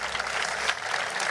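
Crowd at the Marbella Master 2021 World Padel Tour final applauding Juan Lebrón, dense sustained clapping from a large audience, loud and continuous without pauses.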